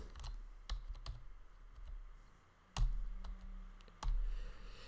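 Typing on a computer keyboard, a steady patter of light close key clicks with a few heavier thumps, likely the space bar, quiet and without talk.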